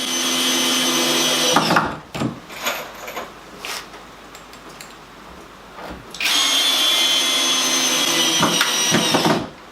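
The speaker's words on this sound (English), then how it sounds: "Last two screws going in." A power drill drives the last screws into a homemade wooden veneer press, giving two long high whirring runs separated by a pause with small clatters, close and loud, with no talking.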